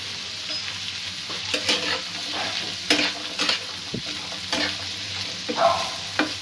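Chopped medium potatoes frying in a pan with onion, garlic and green chili, a steady close sizzle broken by several scraping stirs and clinks of a spatula, no voices.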